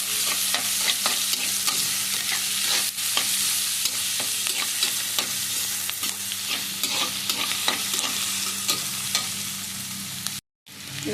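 Onions frying over a high flame for dhaba-style dal tadka, a loud steady sizzle with a spatula scraping and tapping the pan at intervals, cutting out briefly near the end.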